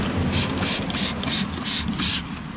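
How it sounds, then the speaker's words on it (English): Steady rhythmic wet sanding of a polished aluminum Harley-Davidson motorcycle part with sandpaper, close, even back-and-forth rubbing strokes about every third of a second. "So now with your sandpaper nice and wet, you're going to go and you're also going to put down the surfaces that you're planning to sand."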